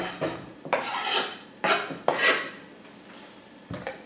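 A knife cuts through fresh pepper on a board in a handful of crisp, scraping chops with short pauses between strokes.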